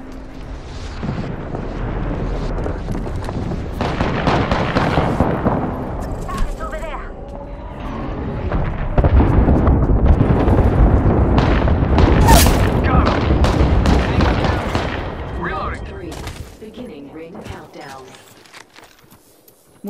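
Heavy weapons fire in deep booming bursts and rapid volleys, rising and falling in loud waves across the stretch, with voices calling out between the blasts.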